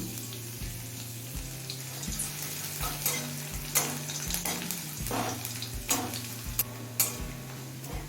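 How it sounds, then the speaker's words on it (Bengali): Chopped garlic fries in oil with dry red chillies and panch phoron, giving a continuous crackling sizzle with irregular spoon scrapes and clinks, close and fairly quiet, and nobody speaks. "রসুনটা হালকা করে ভেজে নিয়েছি"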